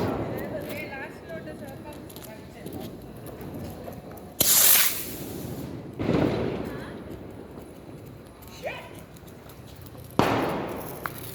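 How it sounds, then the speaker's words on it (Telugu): Diwali firework rocket launches at a village celebration: several sharp hissing bursts and cracking pops spaced several seconds apart, moderately close, with people talking in the background. "one more rocket launching by Akhilesh"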